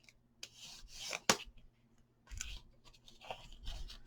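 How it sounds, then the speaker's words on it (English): A tool rubs and burnishes paper on a handmade mini album, giving a few short, soft scraping strokes separated by pauses, close and quiet with no talking. "I do want to burnish this on this side"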